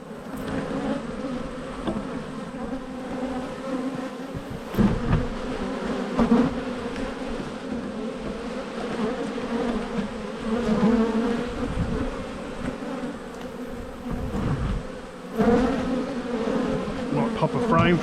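Honey bees hum inside an opened hive during an inspection, a dense, continuous buzzing close by with occasional bumps and rustles of handling.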